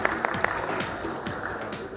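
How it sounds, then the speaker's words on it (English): Audience at a Global Fintech Fest 2024 payments panel in India applauds steadily for the panel. The clapping forms a dense, even wash for two seconds, with a few sharper claps standing out near the start. "let's have a huge round of applause for our esteemed panel"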